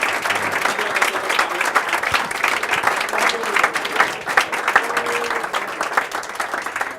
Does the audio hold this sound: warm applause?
yes